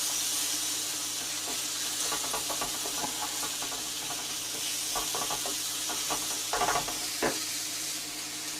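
Bacon lardons and broccoli cooking in a pan over a sharp hot flame, a faint steady hiss with a few scattered pops and scrapes, no talk.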